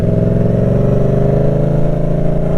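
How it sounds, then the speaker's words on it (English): A motorcycle engine revs with shifting gears, holding a steady, loud, close-up harmonic drone throughout with no pauses and no voices. "Leave the throttle, clutch in, second gear, clutch out, throttle."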